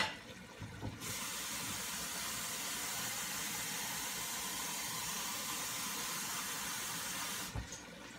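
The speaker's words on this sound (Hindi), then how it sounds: "तो ये डालूंगी और फिर इसके बाद मैं इसमें पानी डालूंगी।" Saved dal water and plain water poured into a cooking pot for roti ka salan, a steady broadband rush of liquid running for several seconds, fairly close and unbroken, with brief clatter at the start and end.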